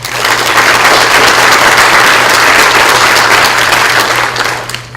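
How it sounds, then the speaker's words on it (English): Steady applause from a seminar audience in a university auditorium, a dense wash of many hands clapping loudly and evenly for about five seconds before tapering off at the end, with a faint low hum underneath. "let's please give these sponsors a round of applause"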